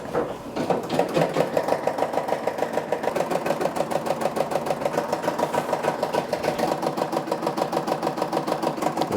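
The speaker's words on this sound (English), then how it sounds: "It is ready to start stitching. And let's finish off with that black thread." A home embroidery machine stitches black thread for a patch, producing a fast, even, rhythmic mechanical chatter that starts up and runs steadily and close by, with no talking.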